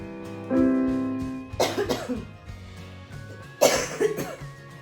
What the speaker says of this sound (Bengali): এত কাশি হয়েছে গান করতে গিয়ে শুধু কাশি আসছে